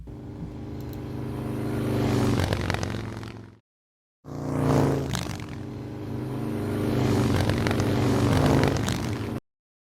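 Motorcycles passing on a road, each one a loud roaring engine that swells and fades as it goes by, in two stretches split by a brief silence.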